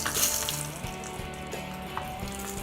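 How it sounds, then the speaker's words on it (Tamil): Finely chopped coconut frying in hot oil for a sweet ada pradhaman, a steady close sizzle with occasional light clinks and stirring scrapes. "பொடியாக நறுக்கின தேங்காவை வந்து நம்ம எண்ணெயில் வறுத்தெடுத்துக்கலாம்."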